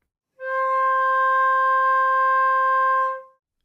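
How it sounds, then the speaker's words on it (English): A flute sustains a single steady second-octave C natural, pure and clear with no vibrato breaks, held for about three seconds before tapering off, alone and close. "starting with C natural in the second octave."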